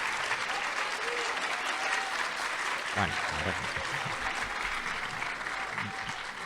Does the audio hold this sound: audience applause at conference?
yes